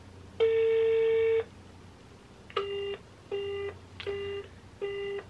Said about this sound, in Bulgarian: Никой не иска да ми вдигне